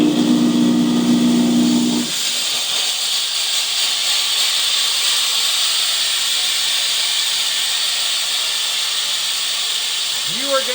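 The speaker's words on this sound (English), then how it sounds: "you are going to get 8 to 15 seconds of continual steaming" Silver Dragon jewelry steam cleaner releasing a continuous loud hiss of steam, preceded by a brief pump hum at the start and a faint rising tone near the end.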